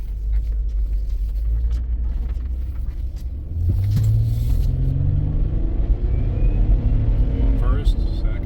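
A car pulled off a repair-shop lift rolls along the road on a test drive, a steady low engine and road rumble throughout that swells slightly as it picks up speed, with someone talking over it.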